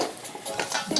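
Curry goat ingredients with bell peppers and turmeric being stirred in a pot, giving soft scraping and clinking of a utensil against the pan in short, irregular strokes, close and fairly quiet.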